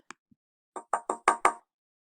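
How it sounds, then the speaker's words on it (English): A faint tap or two, then a run of five sharp knocks on a door, getting louder and closer together, with no voices. "Someone tapped on the door."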